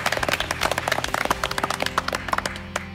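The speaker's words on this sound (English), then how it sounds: "why don't we give a big round of applause to our 3 presenters?" Studio audience clapping for three presenters on a presentation show, a scattered run of sharp, closely spaced claps over a low steady background hum.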